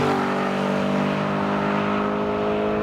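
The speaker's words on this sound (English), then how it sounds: "I'm gonna show you launch control" An Audi RS5 Cabriolet with a 4-liter twin-turbo engine launches hard on launch control, its loud, sustained engine roar holding a steady high pitch, close and continuous, with no talk.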